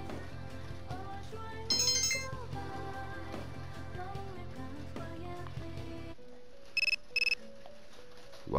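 A phone ringtone in the video game Persona 3 Portable chirps in two short electronic bursts after the background game music cuts out, preceded by a brief chime over the music.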